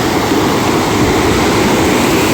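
Loud, continuous rush of fast-flowing stream water in dense forest at the foot of Prachitgad, close by and unbroken throughout.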